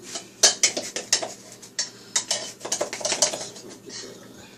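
Metal spoons and utensils clink and rattle in a home kitchen while making banana nut bread, a burst of sharp close clatters that trail off into softer scraping.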